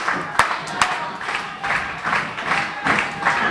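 At a pro wrestling event, rhythmic clapping rises from the crowd in steady pulses, with a couple of sharp nearby claps at the start and a faint audience murmur underneath.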